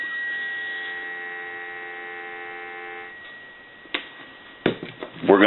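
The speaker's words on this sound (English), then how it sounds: "We'll go ahead and give you some dial tone." A steady dial tone on a Western Electric 302 rotary desk telephone hums for about three seconds, then cuts off, followed by a few sharp clicks and brief noisy bursts.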